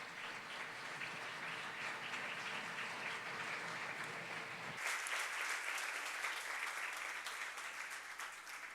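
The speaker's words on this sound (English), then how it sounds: "we should give them a round of applause for their work" An audience at a higher-education summit claps for students in sustained applause that lifts noticeably brighter and fuller halfway through, a dense wash of many hands.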